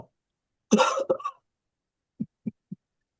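A single harsh cough bursts out, followed a moment later by three short, soft low thumps spaced evenly apart, all fairly close and otherwise quiet.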